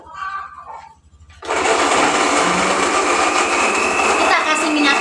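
Electric blender grinding spices for sambal (shallots, garlic and curly red chili) starts abruptly after a moment of quieter kitchen noise, then runs as a loud, steady, close whirring roar.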